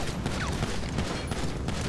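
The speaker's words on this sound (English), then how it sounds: "Assholes are shooting at me." Rapid gunfire rattles steadily through a GTA Online shootout, a dense continuous barrage of shots aimed at the player, loud and unbroken across the moment.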